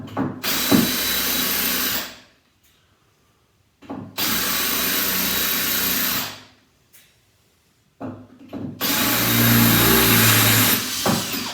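A power drill bores holes in a bathroom or wet room, running in three long, loud bursts of several seconds each, with short silent pauses between them and no talking.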